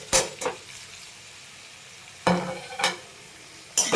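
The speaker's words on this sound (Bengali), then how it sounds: "দিয়ে এটাকে আমি একটু কষিয়ে নেব" Potatoes and figs with ginger, turmeric, chili powder, cumin and sugar are stirred in a pan, giving a few sharp scraping strokes separated by a soft background sizzle.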